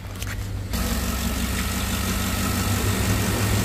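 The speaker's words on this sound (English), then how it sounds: "The engine is just so quiet now." A 2014 GMC Yukon Denali with a 6.2L V8 idles hot after an AFM/DOD delete, a steady low, even hum heard close up, with a brief click near the start.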